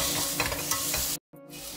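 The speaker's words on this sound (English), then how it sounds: "And then mix it well again." Capsicum being stirred into pav bhaji masala in a pan, a steady close scraping and sizzle that cuts out abruptly for a moment before resuming.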